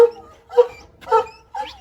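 A dog lets out four short, whiny barks and yips in quick succession, close by, with brief gaps between them.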